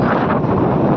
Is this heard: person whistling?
no